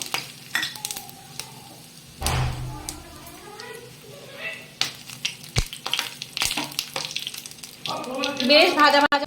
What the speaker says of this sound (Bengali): তেল গরম হয়ে গেছে, আর এখানে আমি রাখছি একটা শুকনো লঙ্কা, গোটা গরম মশলা, তেজপাতা আর সাদা জিরে